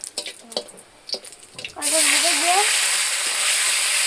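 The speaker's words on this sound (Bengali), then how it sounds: "মাংস চাপানো হচ্ছে" Home kitchen chatter gives way as meat drops into a hot pan, setting off a sudden loud sizzle that holds steady to the end, with a voice briefly heard over it.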